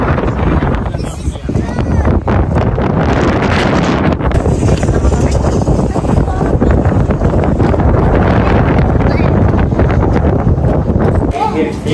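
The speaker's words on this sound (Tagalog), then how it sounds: "ang hangin" Strong wind roars steadily across the microphone, a loud continuous rumble with buffeting gusts, with voices faintly under it.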